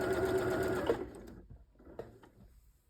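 A sewing machine runs a quick steady burst of stitching along a quilt block seam, the needle whirring close and loud before stopping, followed by a few soft clicks and handling sounds.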